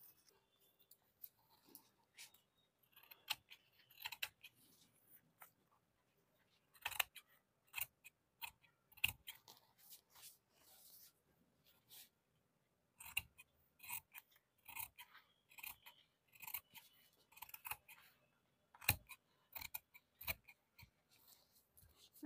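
Scissors cut through saree fabric and a paper pattern up close, producing quiet irregular bursts of crisp snipping and sliding blade scrapes, separated by pauses.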